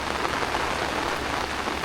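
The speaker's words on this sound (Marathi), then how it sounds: "आणि बघा पावसाला आगमन झालेलं आहे." Heavy monsoon rain falls in a Konkan village, a dense, loud, continuous patter on surfaces with no pause and no voices.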